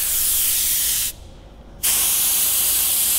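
An airbrush sprays paint in a steady, close hiss, cutting out briefly for under a second before resuming at full strength.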